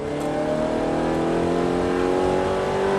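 Ferrari F430 F1 accelerating hard on a circuit at a driving course in Salon-de-Provence, a loud close engine note with rising harmonic pitch held steadily for three seconds, no talk over it.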